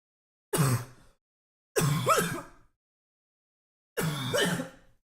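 Three separate coughs, each a harsh burst with a short rasping tail, spaced about a second apart in a quiet room.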